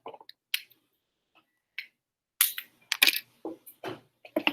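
A new plastic pipette tip is pressed onto a pipette during PCR gel loading in a lab, giving a quick series of sharp clicks and snaps, close and crisp, with short quiet gaps between them.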